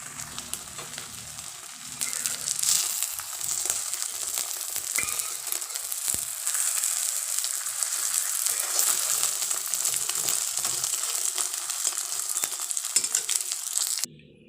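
Three omelettes fry in hot oil in a kadai, a bright continuous sizzle with occasional stirring scrapes, steady and close, fading out abruptly at the end.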